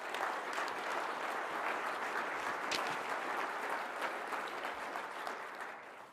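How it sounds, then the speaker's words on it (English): Sustained applause from an audience at a city's State of the City address, steady and full-bodied clapping from a large crowd that holds level throughout and tapers slightly at the end. "Let's give them all a round of applause"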